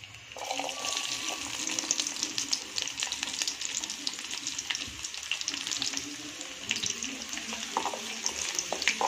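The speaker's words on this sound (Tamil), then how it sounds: "பூண்டையும் நம்ம அதே மாதிரி வறுத்து எடுத்துக்கலாம்." Garlic fries in hot oil for a Burmese-style egg dish, a steady, fairly quiet hiss and crackle of sizzling that runs continuously with small pops and scrapes, heard up close with no talking.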